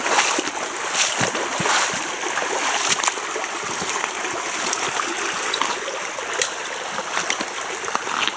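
Water flowing and splashing steadily close by, a broad hiss with small splashes and trickles throughout, with no talking.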